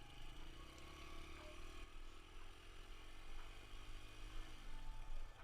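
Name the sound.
dirt bike engine while shifting gears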